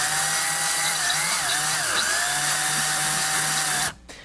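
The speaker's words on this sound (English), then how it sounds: "We're going to give the drill a couple of quick turns in order to pull the slack out of the wire." Power drill on a tree-making machine whirring steadily to take up slack in a wire, its pitch wavering briefly under load before it cuts off abruptly near the end.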